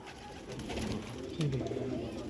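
A pigeon of a prized racing breed gives a soft, low rolling coo, close by and fairly quiet against faint background noise.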